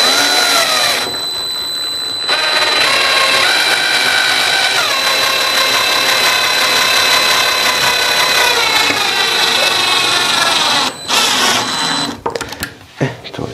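A power drill drives a screw into wood while assembling a wardrobe, with a steady high-pitched motor whine that runs for about ten seconds and then stops, followed by brief clatter.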